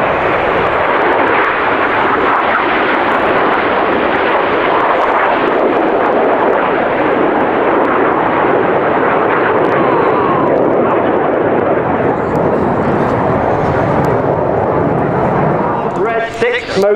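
Red Arrows jets perform the rollback manoeuvre at the Midlands Air Festival, a loud, continuous broadband roar of jet engines that swells and rumbles for the whole stretch, with public-address commentary running underneath.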